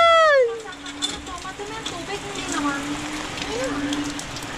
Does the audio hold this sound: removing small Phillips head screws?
no